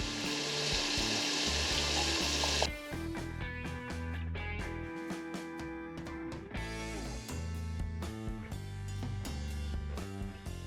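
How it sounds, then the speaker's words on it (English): Meat sautéing in a pot for barbacoa gives a loud, dense sizzle for the first couple of seconds before it cuts away and music takes over for the rest. "putting our meat back in, and letting it cook."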